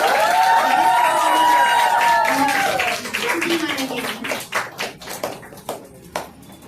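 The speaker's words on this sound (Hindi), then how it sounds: "जोरदार तालियां हो जाएगा इस" An audience at an anniversary event cheers and applauds, a dense wash of clapping under a host's announcement, thinning into scattered individual claps toward the end.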